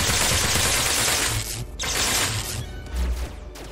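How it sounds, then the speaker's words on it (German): Weapons in the VR game Boiling Steel fire in rapid bursts, dense close gunfire crackling loudly with brief gaps between volleys and no speech. "Hört ihr auf zu schießen?"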